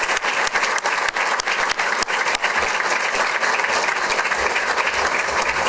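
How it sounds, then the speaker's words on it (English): An audience at a school district board meeting applauds honored students, a sustained, loud burst of clapping from many hands with no break. "Let's give them a round of applause for being here tonight."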